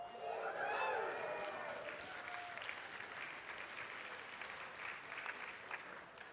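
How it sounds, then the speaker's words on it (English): Festival crowd applause at NEXA Fest 2025, a sustained wash of many hands clapping with a few cheering voices near the start, continuing evenly at moderate level. "Give yourselves a round of applause."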